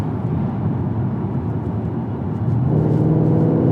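A supercharged 750bhp Mercedes C63 on factory 255 rear tyres accelerates at full throttle on a dry road, with a loud, steady engine roar that rises in pitch toward the end.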